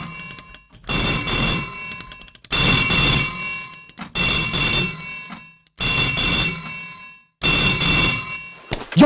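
A telephone bell rings loudly and close in five long trilling bursts separated by short silences, with a metallic ringing tone.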